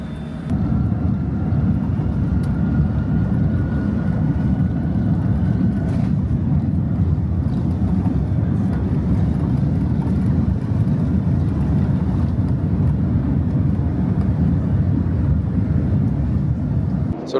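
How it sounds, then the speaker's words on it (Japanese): A steady, low rumble of jet engines as a JAL Airbus A350-1000 airliner taxis toward the runway, continuous and unbroken, with no talking. "今ちょうど飛行機が動き始めて滑走路に向かっております。"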